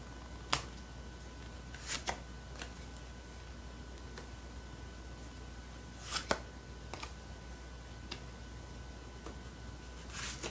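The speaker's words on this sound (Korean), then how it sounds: "천사들의 조언 카드 뽑아보겠습니다." Tarot cards handled in a quiet room: a few sharp, spaced riffles and flicks as the deck is shuffled and cards are drawn, soft and close against a faint steady hiss.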